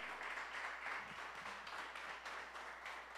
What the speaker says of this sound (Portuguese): Dê um forte aplauso, Senhor.